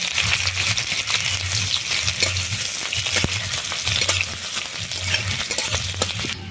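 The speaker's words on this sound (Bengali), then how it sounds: "পেঁয়াজ হালকা ভাজা হয়ে গেছে" Chopped onions with five-spice seeds frying in hot oil in a wok, a bright constant sizzle with a steady scraping stir and occasional clinks, close and alone without talk.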